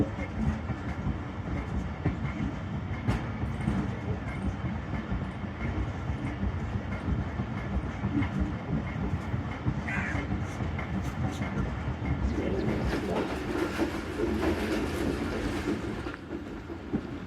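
The Tezgam Express rolls along the rails as it slows toward a station, a loud continuous rumble with rhythmic clickety-clack of the wheels heard close from onboard, a brief squeal near the end.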